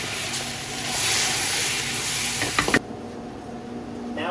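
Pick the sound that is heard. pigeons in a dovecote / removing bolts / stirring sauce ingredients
stirring sauce ingredients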